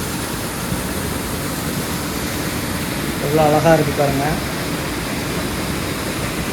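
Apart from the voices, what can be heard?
Shenbagadevi waterfall near Courtallam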